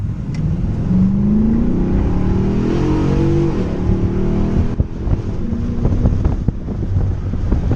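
A 2017 Nissan Titan Pro 4X pickup with a 5.6L gas V8 and a K&N cold-air intake accelerates hard with the windows down on a windy day, a loud rising engine roar buffeted by heavy wind noise.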